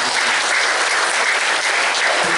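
Sustained audience applause fills the room at a political gathering, a dense, steady wash of many hands clapping at close range, with no voices standing out.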